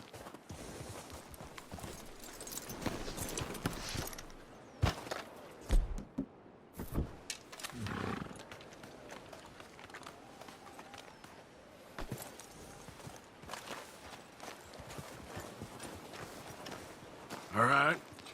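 Horse hooves clip-clop in a loose walking rhythm in the video game Red Dead Redemption 2 with other game noises, while voices talk over much of it and a few sharper thumps stand out.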